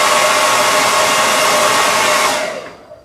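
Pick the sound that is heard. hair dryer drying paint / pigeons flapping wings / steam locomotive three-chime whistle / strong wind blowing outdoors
hair dryer drying paint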